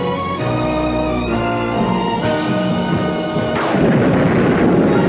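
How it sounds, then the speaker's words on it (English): Dramatic music with sustained tones in a movie trailer gives way to loud crashing booms and rumbling blasts that build toward the end, like explosions in a cinematic montage. "Explosions."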